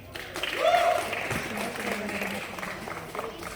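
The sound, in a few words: audience applause at magic show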